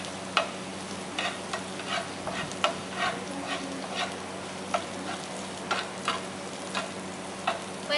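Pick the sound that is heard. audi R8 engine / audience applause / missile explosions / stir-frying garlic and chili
stir-frying garlic and chili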